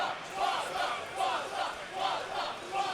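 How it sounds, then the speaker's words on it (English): A tournament crowd at a Guilty Gear Strive event chants a player's name in a steady rhythmic pulse, repeating about every 0.8 seconds, loud and massed with no speech over it. "The Pata chant from the crowd."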